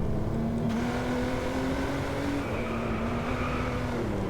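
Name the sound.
Jaguar XJ220 engine driving in video game Driveclub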